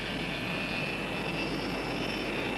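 Jet aircraft taking off from an aerodrome, a steady broadband engine roar with a sustained high whine, loud and continuous with no talking.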